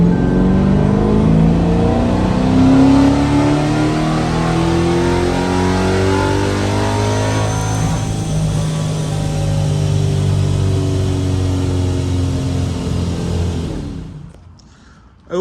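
A modified car engine, heard up close on a dyno, revs loudly and steadily with pitch shifting as it climbs, holding for about fourteen seconds before cutting off abruptly.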